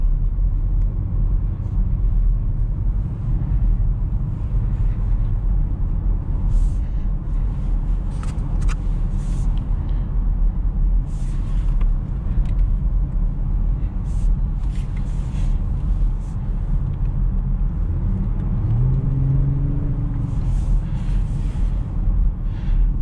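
A 2020 Range Rover Velar P340 with its V6 on the move, a steady low engine and road drone under constant cabin noise, with faint clicks and a brief rising tone near the end.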